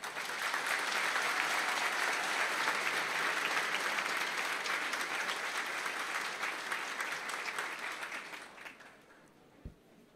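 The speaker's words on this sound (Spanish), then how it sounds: "para todos ellos pido un fuerte aplauso" Crowd applause at a mayor's swearing-in ceremony in Higüey, a long sustained roar of many hands clapping that holds steady before fading out near the end, followed by a single soft thump.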